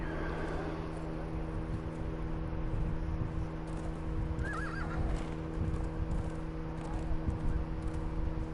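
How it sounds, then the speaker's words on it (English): A horse in the video game Conan Exiles neighs and whinnies over steady clip-clop hoofbeats, the footfalls continuing in an even rhythm under a low game hum. "What the fuck is wrong with this horse?"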